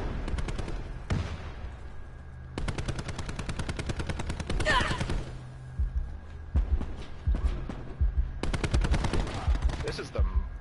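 Rapid repeated pistol shots in the Call of Duty Blackout video game, firing in quick strings with short pauses between bursts, moderately loud over background game noise.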